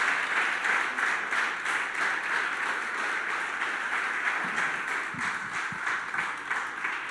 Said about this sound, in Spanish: ¿Por qué no le das tu mejor aplauso al Señor en esta mañana?